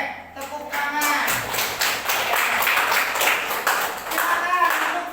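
Hands clap together in a classroom, with many students applauding at once in a dense burst of claps that carries on steadily for several seconds, loud and close, with a few children's voices mixed in.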